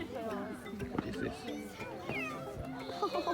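A person imitates a very small kitten's meow with a squeaky, rising voice, mixed in with continuous lively talk and background chatter.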